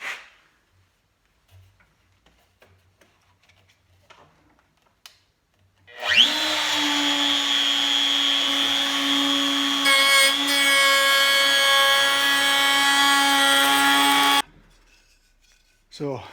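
A router with the bit raised in steps trims a zero clearance insert for a Delta 36-725 table saw, giving a loud, steady high-pitched whine that starts abruptly, holds for about eight seconds and then cuts off, with quiet moments before and after.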